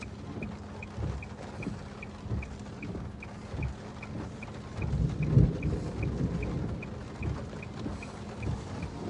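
Deep rolls of thunder from a severe, tornado-warned thunderstorm rumble over steady rain, swelling into a louder, nearer boom midway before settling back to a low grumble.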